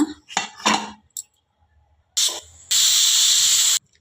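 Pressure cooker whistle on a stove while cooking menthe bath, a fenugreek rice breakfast, giving a short hiss and then a loud, steady steam whistle of about a second, after some metallic clinks of utensils.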